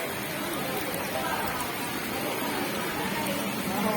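Rain falls in a steady, even hiss of drops on surfaces, with a voice faintly audible under the downpour.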